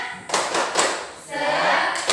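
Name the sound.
rhythmic 'tepuk semangat' spirit clap by class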